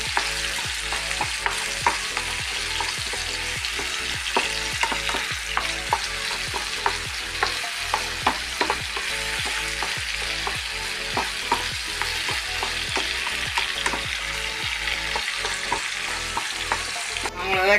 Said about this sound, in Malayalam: നമ്മൾ വെച്ച കയ്പക്കായ ഏതാണ്ട് ഫ്രൈ ആയി